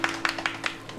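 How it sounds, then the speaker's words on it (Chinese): A few hand claps sound close by in an even rhythm, about five sharp claps within a second, over a faint steady hum. "师傅，为你鼓掌"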